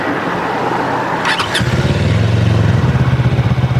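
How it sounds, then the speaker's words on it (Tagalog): A two-cylinder motorcycle engine with a 180-degree crankshaft starts up and runs at a close, loud idle, giving an even, buzzy pulsing beat after a brief clatter at ignition. "Ito naman ganitong 180 degree crankshaft."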